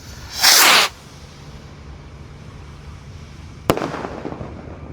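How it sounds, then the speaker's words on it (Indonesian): A red Gold Dragon Rocket firework ignites with a loud roaring hiss lasting under a second, then a sharp crack follows with a fading crackle, all outdoors without talk. "yang kita nyalakan di sini ada Gold Dragon Rocket yang warna merah"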